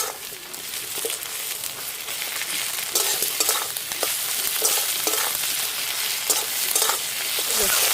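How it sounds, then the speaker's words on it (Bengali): Ginger-garlic paste sizzles with frying onions for a spicy desi chicken curry while a spatula stirs steadily, scraping the pan in repeated strokes over a continuous close-up hiss. "আদা রসুন বাটা দিয়ে একটু ভালো করে একটু নেড়ে নেবো"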